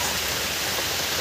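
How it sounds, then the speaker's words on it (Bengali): Rain falling outside, a dense, steady wash of noise with no breaks, close and fairly loud, heard alone. "ওদিকে বৃষ্টি পড়ছে"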